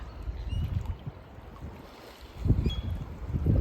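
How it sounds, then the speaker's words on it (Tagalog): Steady low rumble of a boat moving across water with wind buffeting the microphone, swelling louder toward the end; no voices. "ang bilis ng takbo ng bangka"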